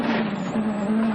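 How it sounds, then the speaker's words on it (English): Rally car on a rough, rutted gravel stage in Sardinia, Italy, heard as a steady broadband rumble and rattle of the car crashing through dips and ditches, with a strong low engine drone running continuously throughout. "You can hear the car crashing out as it's hitting all the dips and ditches."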